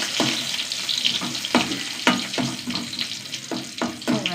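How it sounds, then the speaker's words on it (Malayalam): Dried chillies frying in a pan, with sharp crackling pops and spurts of sizzle recurring every half second or so over a steady hiss, close and fairly loud, with no talking. "മുളക് വറുക്കട്ടെ."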